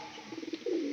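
A domestic pigeon in a loft gives a short, quiet coo, a few soft pulses rising into a longer throaty note at close range.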